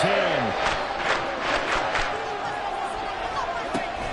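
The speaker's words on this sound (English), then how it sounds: "this crowd is making an impact right now" Stadium crowd noise in the football video game Madden 24 rises as a dense roar of cheering with sharp thumps and whoops, loud at first then settling to a steady background wash.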